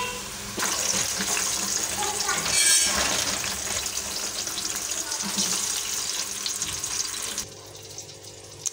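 Potatoes fry in hot oil, making a close, continuous crackling sizzle with bubbling bursts and scraping stir sounds that quiets abruptly near the end.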